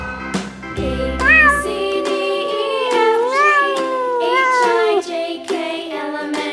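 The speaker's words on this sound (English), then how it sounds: "C for cat." A cat meows repeatedly in a children's alphabet cartoon, several loud, clear, drawn-out meows with rising and falling pitch, close and alone.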